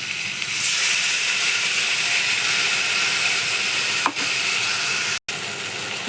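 Ginger, cumin and chili paste hits hot oil in a pan for a fish dish, giving a loud, steady, close sizzle and hiss that holds throughout with one brief break.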